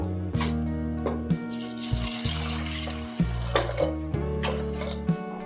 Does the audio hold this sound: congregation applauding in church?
no